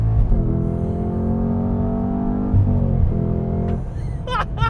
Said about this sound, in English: We have rev match downshifts